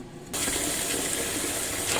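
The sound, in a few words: washing string beans in water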